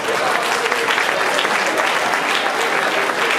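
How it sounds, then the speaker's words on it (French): An audience applauds an anniversary couple at a celebration of sixty years of marriage: dense, steady clapping from a full room, close and loud, with no speech over it. "Est-ce qu'on peut les applaudir,"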